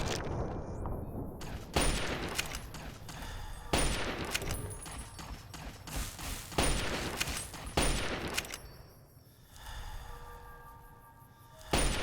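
Repeated bursts of gunfire in Fallout 3 / New Vegas during a Tale of Two Wastelands run at Big MT, loud sharp shots spaced a couple of seconds apart, ending with a quieter stretch and a final burst.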